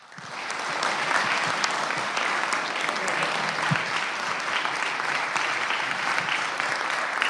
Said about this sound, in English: I just would like you to all give them a round of applause and recognize this group of fine citizens.